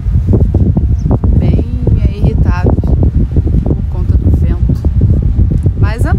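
Cold, strong wind roars steadily across the microphone at a cave and waterfall park, a loud continuous rumble with gusty rustling, while people talk over it throughout.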